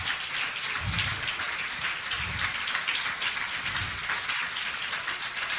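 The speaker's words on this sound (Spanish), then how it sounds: "Vamos a darle un aplauso a Cristo" A church congregation applauds together, a dense, steady wash of clapping from many hands that fills the space evenly from start to finish, with no voices rising above it.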